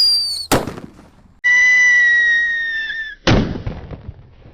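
Paper-wrapped whistling firecrackers and Happy Power firecrackers go off close by: a high whistle, a sharp bang, a longer multi-tone whistle lasting over a second, then a second loud bang.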